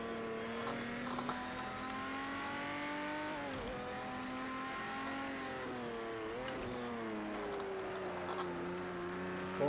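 Datsun 240Z race car in Project CARS 2 at Le Mans 1971, its engine droning steadily with shifting pitch through gear changes, two brief lifts around mid-run, loud and continuous without talk.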